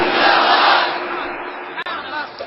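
A large crowd chants a religious slogan in loud unison, a dense roar of many voices held for a couple of seconds, briefly dipping before continuing.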